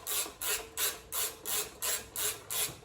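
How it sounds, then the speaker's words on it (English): A ratchet tightens a bolt on an engine in about eight even, repeated clicking strokes, close and fairly quiet. "Tighten this bolt back up now"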